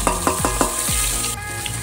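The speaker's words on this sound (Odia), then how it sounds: "ଏବେ କଣ୍ଟା ହେଇଥିବା ପିଆଜ ପକାଇବା" Chopped onions tip into hot oil with cinnamon pieces for a country chicken curry, a loud close burst of sizzling with a few quick clinks and scrapes at the start, then a continuous frying hiss.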